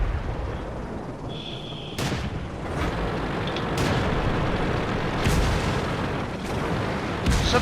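Tank cannons fire in World of Tanks, with several loud booming shots spread over a few seconds against a constant rumble of battle noise.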